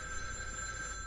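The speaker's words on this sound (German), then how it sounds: "Das ist ein Telefon." A telephone rings in the horror video game The Evil Within 2, a steady electronic ring heard briefly under a constant game background hum.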